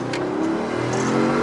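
A car accelerating hard, its engine note climbing steadily and loudly with a strong, continuous growl that fills the whole stretch with no voices over it.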